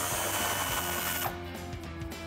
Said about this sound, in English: I have an 18 millimeter socket. I'm just gonna remove that nut and take the quad shock off of that stud.